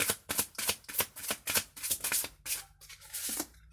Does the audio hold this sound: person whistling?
no